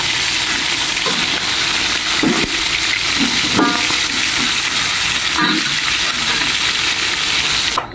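Steady, dense sizzling of fish frying in hot oil, close and loud throughout with a few small clinks over the crackle.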